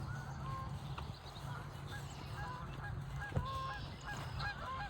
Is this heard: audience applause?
no